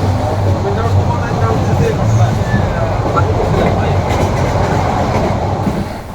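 A passenger train in Bangladesh, on the route to Chittagong, rumbles loudly and continuously as heard from inside the carriage, with steady wheel clatter and a constant low roar throughout.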